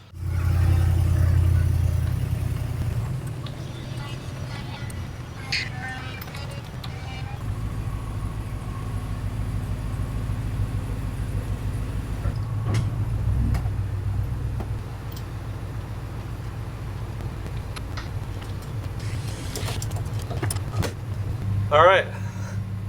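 A vehicle towing a cabin built on a trailer rumbles along on a test drive, a steady low drone with engine surges, a few knocks and rattles, and a brief squeal near the end.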